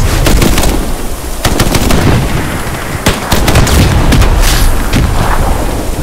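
Grenade blasts and rifle and machine-gun fire in the World War II shooter Hell Let Loose, a loud, dense barrage of sharp cracks and booming explosions close by, with several distinct shots standing out over continuous battle noise.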